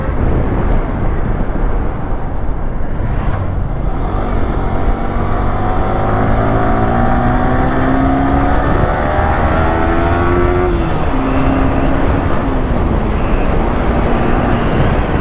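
A Yamaha R15 V3 motorcycle with a very loose drive chain, loaded with luggage and being ridden. Its engine drones loudly and steadily, and the pitch climbs through gear after gear with brief dips at each shift.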